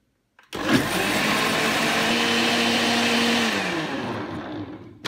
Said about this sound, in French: j'ai mélangé donc tout ce qui est liquide